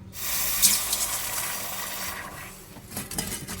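A hot cast silver pendant is dunked into water to cool, giving a brief, fairly quiet hiss and spray that fades within a few seconds.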